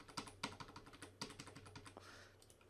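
Keystrokes on a computer keyboard as a credit card number is entered, a quick, uneven run of close, quiet clicks over about three seconds.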